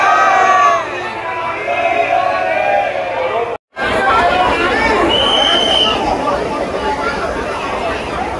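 A dense crowd packed into Banke Bihari temple, a continuous babble of many voices with shouts and calls rising above it, briefly cut to silence midway before the hubbub resumes.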